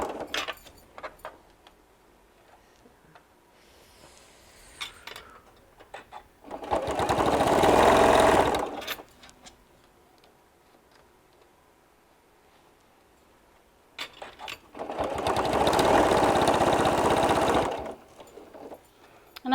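Sewing machine stitching through many layers of mesh and quilted topper fabric for a hanging travel laundry bag, two loud sustained bursts of stitching separated by quiet handling noises.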